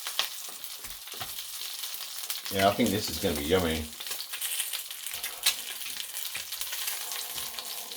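Homemade sausage patties sizzle and crackle steadily in a frying pan as it is shifted around on the heat, with a short stretch of someone talking over the cooking.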